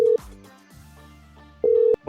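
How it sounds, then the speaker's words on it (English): A telephone ringback tone plays in two long steady beeps with a quiet pause between them, heard clearly over the line before anyone answers. "It's ringing."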